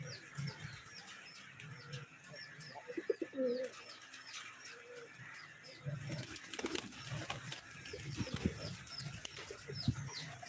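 Wild pigeons kept at a home coo softly and repeatedly, with chirps and other bird calls at moderate distance over faint outdoor background noise.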